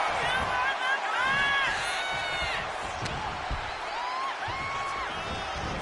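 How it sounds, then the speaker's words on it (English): Electric arena crowd in the wrestling video game WWE 2K25 during a Randy Orton match, a steady loud roar of cheering with rising whoops, under a commentator's voice. "Randy Orton feeding off this electric crowd."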